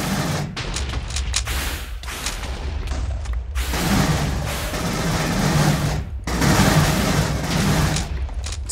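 An automatic gun in a modded Minecraft game fires long, dense bursts of rapid shots with a few brief pauses, loud and close, with booming impacts mixed in.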